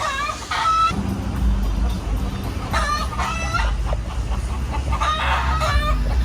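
Several roosters perched up in trees cluck and crow loudly and close by, with repeated harmonic crows breaking over a steady noisy background.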